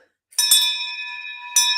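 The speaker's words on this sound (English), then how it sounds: "I want to ring the bell" A bell struck twice, each strike giving a bright, clear ringing tone that sustains and hums between hits, loud and close.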